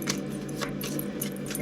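Tarot cards being shuffled by hand, a close, crisp run of papery riffling and soft slaps repeating quickly over a low background hum.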